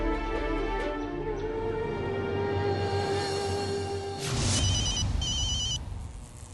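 A telephone rings in a French-dubbed drama series, a sustained electronic ringtone with repeating tonal pulses and a brief brighter burst near the end.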